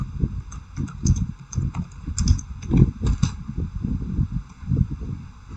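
A computer keyboard being typed on to enter a Cisco switch configuration command, with close, rapid, uneven clicking of keys that continues steadily with no voices.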